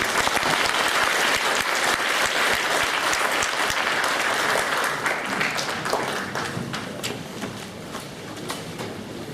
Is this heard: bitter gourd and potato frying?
no